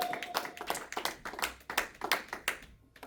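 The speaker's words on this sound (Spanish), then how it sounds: "Den ese aplauso fuerte al Señor." Rhythmic clapping at a church service, a steady series of sharp hand claps at an even pace, fairly close, fading out at the very end.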